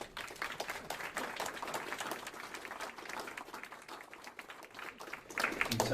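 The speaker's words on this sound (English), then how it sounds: "let's give him and all the others that I recognized earlier a round of applause" Steady applause from an audience at a recovery center dessert fundraiser, dense continuous clapping filling the room for six seconds and swelling slightly louder at the end.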